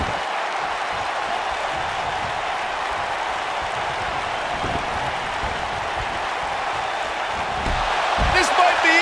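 A packed arena crowd at a pay-per-view wrestling event keeps up a dense, steady roar that swells louder near the end, while a commentator's voice runs over it.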